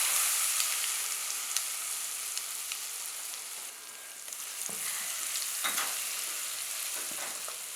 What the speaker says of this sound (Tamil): இதில் கொட்டிட்டு நல்லா கலந்து விட்டணும்.